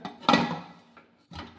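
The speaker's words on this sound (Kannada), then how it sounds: "ಈಗ ಇದಕ್ಕೆ ವಿಷಲ್ ಹಾಕ್ದೇನೆ ಈ ಥರ" A metal whistle weight is set onto a pressure cooker lid while idlis steam in a stand inside, giving a sharp clack followed by a lighter tap, then a second knock, close by with no talk.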